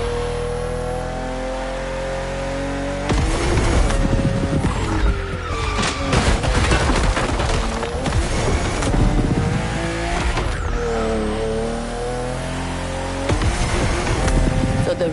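A BMW M4 CSL engine in The Crew Motorfest video game revs and accelerates hard, with tire squeal and skidding and repeated gear-change surges over steady driving noise.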